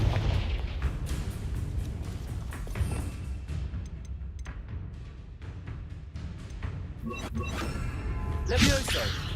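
Confringo spell explosions in the video game Hogwarts Legacy, a run of loud booming blasts and whooshes over a rumbling battle din, with a voice heard among them.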